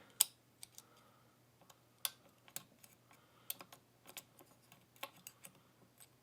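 A Lishi lock pick works inside a lock under tension, giving a string of small, sharp clicks and ticks at irregular intervals, close and crisp against quiet, with no talk.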